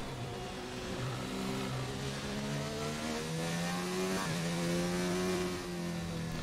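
A Formula 1 car engine in the F1 2019 racing game on a Spanish circuit screams continuously, its pitch climbing and dropping through gear changes, loud and steady throughout with no talk.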